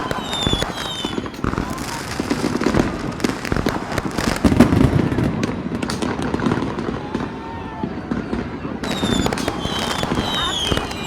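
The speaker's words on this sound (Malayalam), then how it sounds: "നമ്മുടെ ഫയർ വർക്ക്സ് ഉടനെ സ്റ്റാർട്ട് ചെയ്യുന്നതായിരിക്കും." New Year's Eve fireworks over Melbourne crackle and pop in dense, rapid bursts with some whistling shells, heard from within a crowd, with people talking and cheering underneath.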